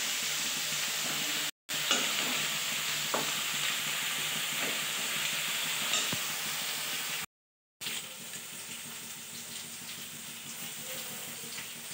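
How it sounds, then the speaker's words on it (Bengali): Soybean and eggplant curry cooks in a pan at home, giving a steady close sizzle and frying hiss with occasional stirring scrapes and clinks, broken by two brief silent gaps. "সয়াবিন বেগুন তরকারি করছি।"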